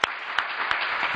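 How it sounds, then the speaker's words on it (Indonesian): An audience applauds in a television studio, a continuous wash of clapping with a few sharper hand claps standing out near the front, steady and moderately loud with no voice over it. "tepuk tangan dong buat saya."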